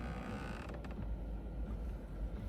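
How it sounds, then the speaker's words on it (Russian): Inside a Volkswagen Tiguan, the climate control flaps creak behind the dashboard with a close, rasping, continuous groan over a low cabin hum, with no talk. "Заслонки скрипят."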